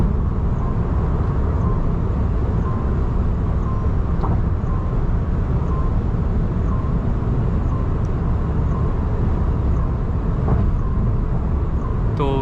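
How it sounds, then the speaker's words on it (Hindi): Steady wind roar inside an electric car cruising at high speed in sports mode, a constant broadband rush with road noise beneath, loud and unbroken throughout. "तो विंड नॉइज एक चीज़ मैंने यहाँ पे अभी ऑब्जर्व करी है।"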